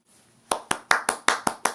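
Hands clap during a worship service, seven crisp, evenly spaced claps close by after a quiet start.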